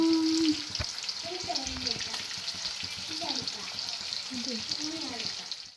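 Oil sizzling and crackling steadily as a second batch of chicken fries in a pan, with occasional scrapes and a voice speaking over it.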